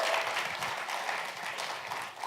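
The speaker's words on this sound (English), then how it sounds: "Give him a little round of applause." Audience applause at a conference talk, a brief, even wash of clapping from a roomful of people that fades slightly toward the end.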